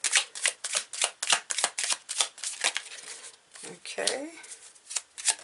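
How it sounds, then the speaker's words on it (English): Tarot cards are shuffled and pulled, a close series of quick papery riffles and flicks in uneven bursts, followed by a brief spoken word. "I'm just pulling 3 cards."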